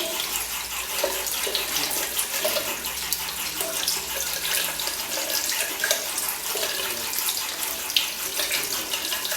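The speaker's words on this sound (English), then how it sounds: "so all you do is just rinse this with water." Warm water runs steadily from a tap to rinse hyaluronic acid serum off an item, a constant close splash and gurgle with no break and no talking.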